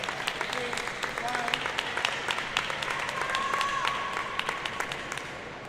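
A stadium crowd at a table tennis semi-final of the 2025 Asian Championships claps and cheers in a dense patter of applause, with sharp ball and paddle ticks and a commentator talking over the noise.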